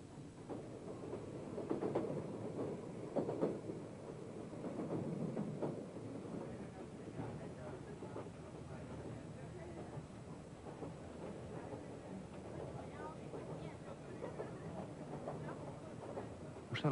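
Train running through Thailand gives a low rumbling, rattling rail sound with rhythmic clatter. It stays fairly faint and continuous throughout, carried over a steady background of running noise.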